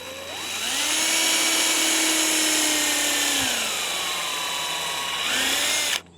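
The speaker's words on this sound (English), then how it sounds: "We did find it works best with a pre-drill." A power drill runs continuously as it pre-drills through a moisture-shield composite deck board, a loud, close, steady whine that shifts pitch under load before stopping abruptly.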